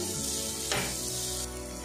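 Onion and garlic fry in a pan with a close, steady sizzle that holds evenly with a brief louder burst partway through.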